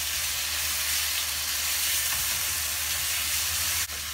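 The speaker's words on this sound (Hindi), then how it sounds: "एक मिनट फ्राई करने के बाद मैं इसमें डाल दूंगी टमाटर" Chopped tomatoes frying in a pan for achari bhindi masala give a steady, loud broadband sizzle and hiss that carries on without a break, with no talk over it.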